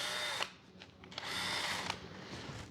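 A power drill bores through the fiberglass body of an RC helicopter, giving a continuous high whine with brief dips and surges in pitch as the bit cuts.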